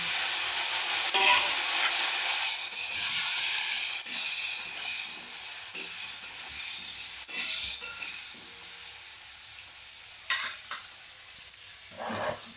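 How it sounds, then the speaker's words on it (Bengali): Cauliflower frying in oil, a bright, hissing sizzle that holds steady and then eases, with occasional stirring clatters near the end, close by and without talking. "এবার আমি ফুলকপিগুলো ভেজে নেব"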